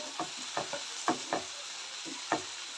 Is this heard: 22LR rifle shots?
no